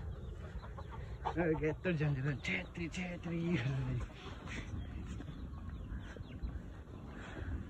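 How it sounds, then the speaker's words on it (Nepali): Hens clucking in short, warbling calls early on, mixed with a busy outdoor background and talk, then the clucks fade into steady ambient noise. "अब चाहिँ हाम्रो कुखुराहरू खेल्दैछ है यहाँ मजाले"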